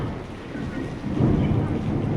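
Thunder rumbles in a broad, swelling roll over steady rain during a downpour in Yerevan, the low rumble growing louder in the second half of the short stretch with no talk.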